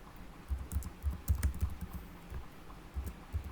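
Rapid keystrokes on a computer keyboard while HTML code is entered, clustered clicks in short bursts with brief pauses, close and clear with no talking.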